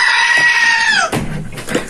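A person imitates a goat's bleat with a long, high, wavering vocal tone, followed by brief laughter and talk.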